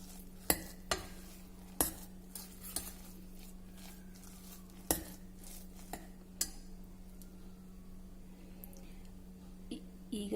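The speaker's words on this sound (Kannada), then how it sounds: "ಇದನ್ನೊಂದ್ಸಲ ಚೆನ್ನಾಗಿ ಮಿಕ್ಸ್ ಮಾಡ್ಕೊಳ್ಳೋಣ" Pressure-cooked foxtail millet stirred in a pot with a metal spoon, producing a few sharp clinks and scrapes against the pot over a steady low hum, moderately close.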